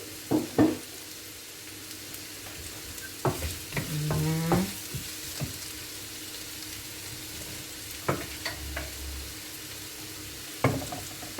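Onions sautéing in a pan until soft: a low, steady sizzle punctuated by scattered scrapes and clicks of stirring, with a brief tonal squeak around the middle.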